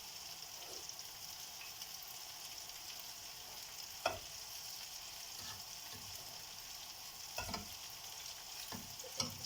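Food sizzles steadily in a hot pan while a utensil occasionally stirs and scrapes, a few soft knocks standing out.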